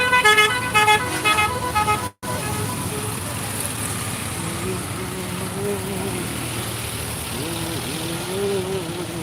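Jammed road traffic at the Lamakazi M A Khan bridge over the Surma River, with road works underway: idling engines and car horns tooting in a busy outdoor din, under someone talking.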